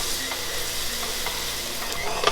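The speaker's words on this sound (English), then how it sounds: "you cook this until the meat is thoroughly cooked and the mixture starts to dry up" Ground meat mixture frying in a pan for hamburger bombs, with a steady close sizzle under intermittent scraping stirs, no talking.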